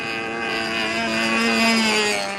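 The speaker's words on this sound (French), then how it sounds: "L'avion n'était autre qu'un drone envoyé par l'ennemi" A model airplane drone buzzes steadily overhead in a film scene, a continuous whining motor drone with layered harmonics that swells slightly louder toward the middle.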